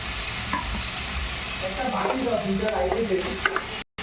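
Chana dal with onion sizzles in a pan while being stirred for upma, a close, steady frying hiss with spoon scraping and clinks throughout.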